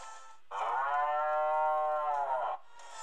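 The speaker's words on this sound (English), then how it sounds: "it has that cool cow sound when you hover over the icon" A single long, loud cow moo from the Harvest Moon 3D: A New Beginning icon on a Nintendo 3DS, a clear sustained lowing of about two seconds heard close up between quieter background game music.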